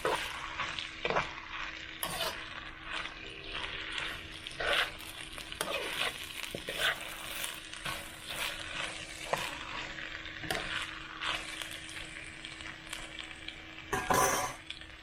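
A pot of Essequibo cook-up rice simmering with added spices, giving a steady soft sizzle and bubbling with occasional spoon stirs and scrapes against the pot, plus a louder clatter near the end; no one speaks.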